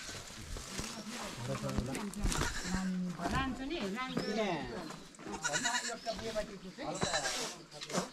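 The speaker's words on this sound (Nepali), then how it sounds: "बाख्राहरू छन् छुट्टै" Goats bleating in a rural Nepali homestead on the road to Okhaldhunga, several close, wavering cries overlapping with people talking nearby.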